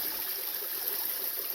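A small mountain stream trickles at a hillside water source along a gulch, a steady soft hiss of running water heard close by and alone, with no voices.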